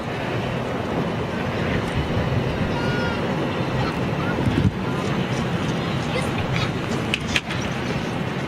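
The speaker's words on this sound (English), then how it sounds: "Looks like a little Embraer on approach" A small Embraer jet on approach passes as a steady, broad roar blended with wind buffeting on the microphone, continuous and moderately loud throughout.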